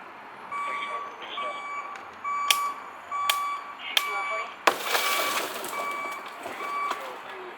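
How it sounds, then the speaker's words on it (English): A police officer breaks the passenger window of a parked car with an unresponsive driver inside: several sharp knocks land, then one loud crack bursts into glass noise, all under steady repeating reversing beeps and traffic rumble. "I decided to break the passenger window"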